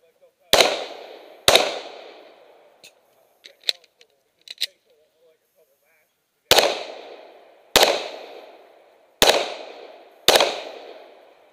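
Gunshots fired at a fish and game club fun shoot: two loud close reports, a pause with small clicks and clatter, then four more sharp shots at spaced intervals, each ringing out briefly.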